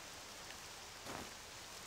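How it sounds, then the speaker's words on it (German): Steady rain falls in the video game Octopath Traveler 2, a soft continuous hiss with a brief swell of heavier patter midway, no voices. "The rain."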